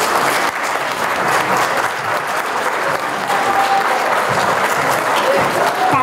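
Sustained audience applause filling a village cultural hall at the inauguration ceremony in Larga, loud and steady throughout with no pauses, a dense crowd clapping together for a young local performer.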